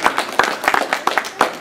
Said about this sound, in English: I'd just like to recognize her and give her a round of applause.